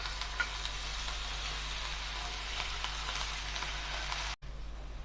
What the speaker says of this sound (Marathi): बटाटे फ्राय करून घेऊया यामध्ये।